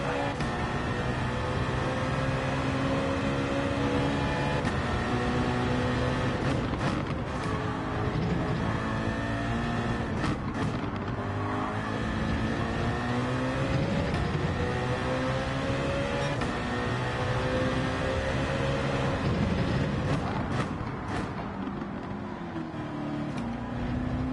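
Ferrari GT3 race car engine in a racing video game at Suzuka, a steady loud droning engine note rising and falling with gear changes throughout, continuous with no pauses.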